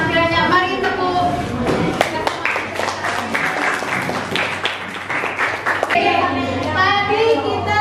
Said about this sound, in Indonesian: Mari tepuk.